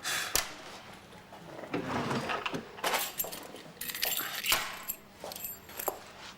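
Office keys jangle and clink close by as a spare set is worked off a ring, with scattered metallic rattles and small knocks over several seconds.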